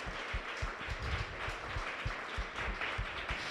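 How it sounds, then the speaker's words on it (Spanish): A church congregation claps for the Lord, with moderate, somewhat rhythmic applause over a low background wash that stays fairly steady across the short stretch. "¿Por qué no le das un fuerte aplauso al Señor?"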